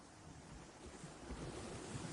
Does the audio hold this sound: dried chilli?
no